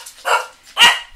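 Dogs bark twice in quick succession, loud and close, two sharp separate barks with a brief gap between them in an indoor room.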